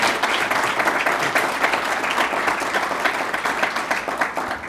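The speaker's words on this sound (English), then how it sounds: "So give him another round of applause." A roomful of guests at a chamber of commerce business luncheon applauds, giving dense, sustained clapping that holds evenly for several seconds before tapering slightly.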